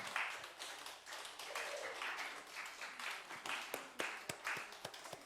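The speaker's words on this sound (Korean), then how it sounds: "박수로 아이들 환영하며" Church congregation claps to welcome children forward during a Sunday service, a scattered, moderate round of applause with a few sharper individual claps standing out near the end.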